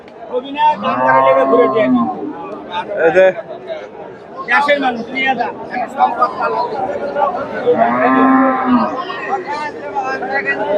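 Cows and calves moo loudly and repeatedly at a busy cattle market in Chandaikona, with long bellowing calls rising over constant crowd chatter, and people talking close by.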